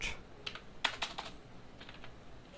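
Quiet, brief bursts of keypresses on a computer keyboard as HTML code is typed, a few clustered clicks then sparse taps, fairly close and soft.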